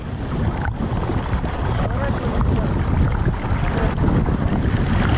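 Boat engines run with a steady, loud, broadband rumble on the sea off Sochi, mixed with rushing water and wind buffeting the microphone throughout.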